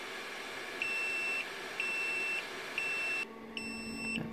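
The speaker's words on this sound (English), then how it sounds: "That's the cold alarm, so I'll just switch that off." A cold alarm for an egg incubator beeps electronically in a regular pattern of four long, steady tones roughly once a second, each tone lasting about half a second. The beeps are fairly close and clear, with no talking.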